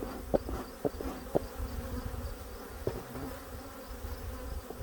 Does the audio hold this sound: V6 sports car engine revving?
no